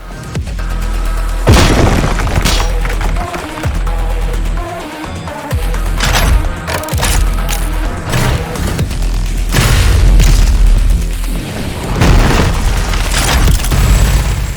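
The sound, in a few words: grenade explosions in the video game DOOM Eternal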